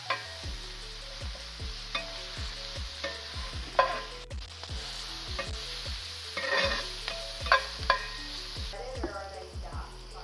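Onions and other vegetables sizzle and crackle steadily in a hot pan while being stirred, with occasional scrapes, over a constant background of music.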